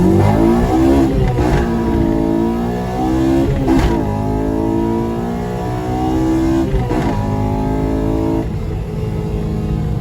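A Honda Civic DX with a swapped K20Z3 engine and manual six-speed transmission revs hard and accelerates from close by, engine note climbing through several gears with brief drops at each shift.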